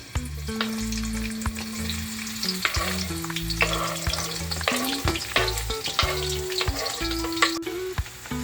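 Chopped onion and garlic sauté in a hot pan for Jamaican steamed fish, giving a steady, close sizzle with repeated stirring scrapes and clinks throughout, under a low constant hum and with no talking.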